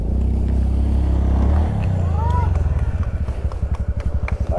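Motorcycle engine near a dam park in Birbhum as the rider pulls a wheelie: a steady low idle, then revving into a rapid pulsing putter, with chatter and voices around.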